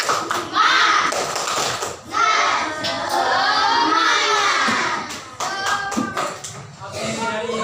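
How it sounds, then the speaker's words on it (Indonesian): A classroom of Indonesian schoolchildren claps a rhythmic spirit clap in quick patterned bursts, with children's voices and chatter mixed in throughout. "Tepuk semangat."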